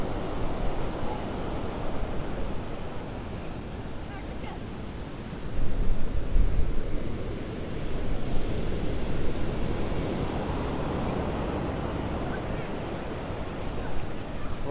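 Steady roar of surf and incoming tide washing up a Gulf beach at Vanderbilt Beach ahead of Hurricane Helene, broad and continuous with wind buffeting, swelling louder around the middle as a bigger wave rolls in.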